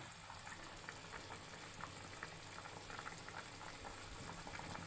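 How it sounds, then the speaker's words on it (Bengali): A steady, close bubbling simmer of hilsa fish curry broth in a pot, with soft popping and hiss throughout and no voices. "ঝোলটা বেশ ভালো মতন ফুটছে"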